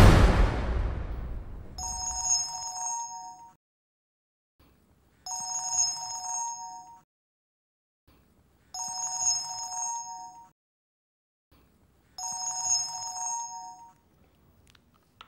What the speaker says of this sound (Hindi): कासिम ने उसको फोन मिलाया और ऊपर आने के लिए कहा